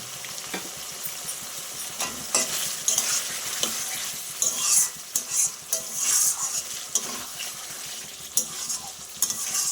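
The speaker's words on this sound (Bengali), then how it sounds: "জিরে আর পোস্ত বাটাটা দিয়ে দিলাম" Ground cumin and poppy seed paste frying with potatoes in a pan for a Catla fish dish, loud steady sizzle under repeated spatula scrapes and metallic clinks against the pan.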